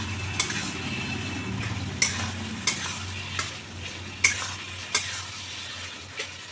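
Spices and banana flower being stir-fried in a pan, a steady low sizzle with sharp spatula scrapes and taps against the metal every second or so, close and alone.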